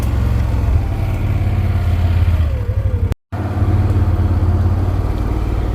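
A 2025 Can-Am Outlander XT 850 ATV engine rumbles steadily while descending a steep hill in low two-wheel drive under engine braking, a loud, continuous low drone with one brief dropout.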